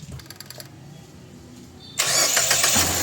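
A Mitsubishi Xpander being started again after a spark plug replacement: quiet low rumble and clicks, then at about two seconds the engine catches and settles into a loud, steady broadband run.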